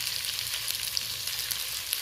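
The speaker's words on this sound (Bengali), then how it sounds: "এবার এটা ভালো করে ভেজে নেব।" Potatoes seasoned with turmeric and salt fry in a pan, giving a continuous, even sizzle with fine crackling and no voices over it.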